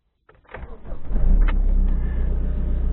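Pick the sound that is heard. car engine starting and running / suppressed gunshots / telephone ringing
car engine starting and running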